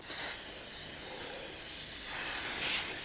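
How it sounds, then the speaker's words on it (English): A loud, continuous aerosol hiss of silicone spray onto a sliding door track, held steadily for about three seconds, close to the microphone, with no voices. "So I'm going to now spray this track 4 times with this spray."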